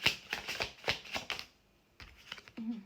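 Tarot message cards are shuffled nearby in a quick run of crisp riffling flicks, then a pause and a few softer card slaps.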